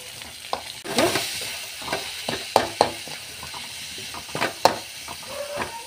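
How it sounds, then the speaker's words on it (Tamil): Curry leaves, onion and garlic sauté in hot oil, a soft continuous sizzle punctuated by irregular spatula scrapes and knocks against the pan, close up with no voices. "அதுக்கப்புறம் கருவேப்பிலை, வெங்காயம், வெள்ளைப்பூடு இதை போட்டு வதக்கணும்"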